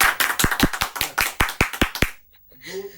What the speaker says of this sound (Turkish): Bir alkış alalım bakalım gençler